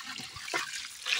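A brief, close pour of water splashes into a cooking pot of rice, a short liquid gush with a slight trickle.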